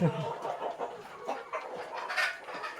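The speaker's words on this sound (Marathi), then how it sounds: "भरपूर अशा गावरानच कोंबड्या" Several free-range village chickens clucking and squawking nearby, overlapping calls in quick irregular bursts, one sharper cackle near the end.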